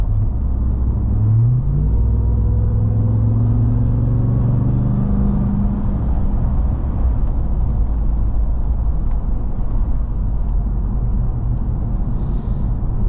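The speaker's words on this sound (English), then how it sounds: "love hearing that supercharger whine" A RAM 1500 TRX pickup truck engine rumbles steadily with a rising supercharger whine as it accelerates early on, then holds a loud, continuous drone.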